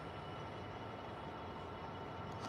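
A Pendolino train passes through Nuneaton Station, a faint continuous rumble of wheels and motors with steady rolling noise throughout.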